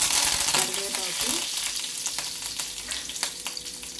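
Curry leaves and tempering spices frying in hot oil for a Telugu kalagura pulusu, giving a steady close sizzle with crackling pops and a few stirring scrapes, no voices.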